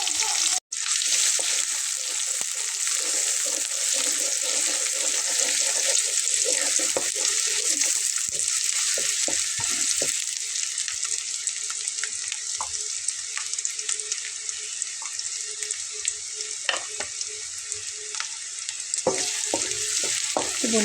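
Chopped onions frying in a pan for a chicken dish produce a strong, steady sizzle lasting about twenty seconds, with scattered light clinks and stirring noises and a sharp knock at the start.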